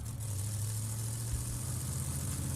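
A Toronado's engine is started and left idling as a sound effect for a tabletop role-playing game, giving a faint, steady low rumble with a slight vibrating hum that carries on throughout, with no voices.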